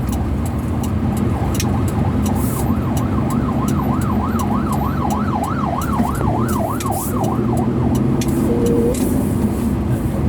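A wailing ambulance siren rises and falls repeatedly amid loud traffic rumble as the ambulance passes close by on a busy road near Ayala Alabang Village, Philippines.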